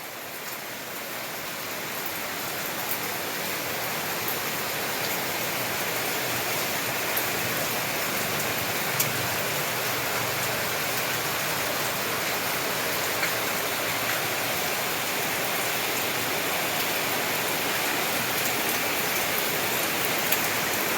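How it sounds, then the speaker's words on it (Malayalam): Heavy rain pours down in a dense, constant roar that stays loud and unchanging from start to finish, with no talking. "നല്ല മഴ പെയ്യുന്നുണ്ട്"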